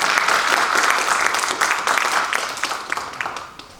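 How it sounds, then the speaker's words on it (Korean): Audience applause at a lecture on religious thought, a full burst of many hands clapping that gradually fades out over a few seconds, with scattered louder claps near the close. "두 분께 하모니 박수 부탁드립니다"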